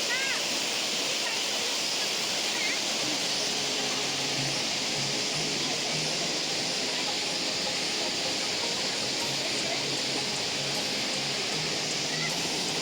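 Water pours down Kothapalli waterfall in a constant, full rushing roar that holds steady throughout, loud and close with no pauses.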